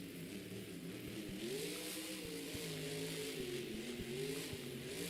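A monster truck engine roars steadily in a Monster Jam stadium in Anaheim during a wheelie, heard from a distance under constant crowd and arena noise, with the revving pitch rising and falling.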